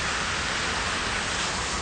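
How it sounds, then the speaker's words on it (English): Heavy rain pouring down outdoors during an intense rainstorm, a dense, steady roar of broadband hiss with no breaks over a couple of seconds. "Pissing down rain."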